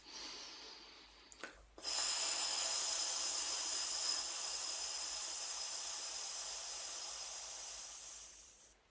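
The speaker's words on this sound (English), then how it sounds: "we're going to breathe out through that space" Steady breathy exhale pushed out through the mouth over a forward-placed tongue, a soft broadband hiss lasting about seven seconds after a brief intake, close and alone, fading at the end.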